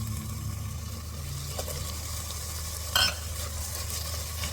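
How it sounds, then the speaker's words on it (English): Potatoes go into a pan of softened tomatoes and onions and are stirred in a pork and bottle gourd dish, a steady close sizzle and frying hiss with scraping stir strokes and one brief louder clatter, no talking. "So here I'm going to add the potatoes to this."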